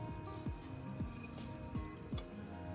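Shaped black bean burger patties sizzle in oil in a fry pan on a stovetop over medium-high heat, a faint, steady crackle with a few soft pops scattered through it.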